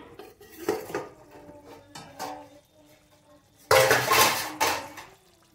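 A metal lid lifted off a pot of rui fish curry, a few light clinks followed by a louder clattering scrape of metal on metal, close by.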